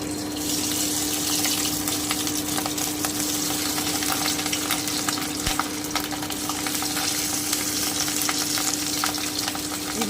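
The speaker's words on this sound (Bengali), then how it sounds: "এভাবে আমি পুরোটাই ভেজে নিচ্ছি" Fish roe dhokar pieces fry in hot oil over a low flame, giving a steady, even sizzle that runs unbroken and fairly close, with no talk over it.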